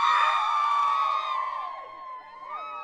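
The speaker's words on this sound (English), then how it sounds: "but hey, the crowds have arrived." A crowd in St Aubin, Jersey cheers and whoops to welcome Tom Daley arriving with the baton, a loud, sustained wash of many excited voices that fades slightly toward the end.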